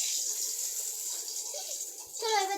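Water pours from a bucket for a bath at home, a steady close-up gush and splash that lasts throughout and swells slightly near the end.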